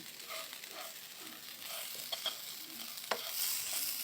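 Meat frying together with flattened rice (chira) in a pan, heard as a quiet, steady sizzle with scraping stirs and a few sharp clinks, the hiss brightening near the end; no talking.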